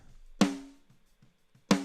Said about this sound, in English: So the snare with nothing on sounds like this.